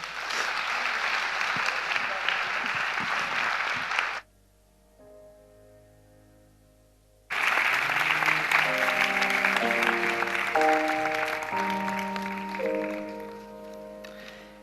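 A falla audience at a Falla Primitiva presentation gives a loud, dense round of applause that drops out abruptly for a few seconds while soft music plays, then the clapping resumes strongly under the music and slowly fades.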